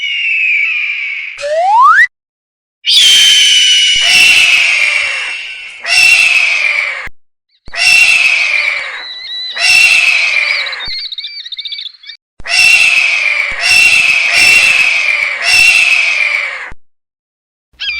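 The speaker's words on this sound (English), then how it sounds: "falcon," A falcon gives loud, harsh, repeated screeching calls in a string of bursts with brief gaps, heard alone.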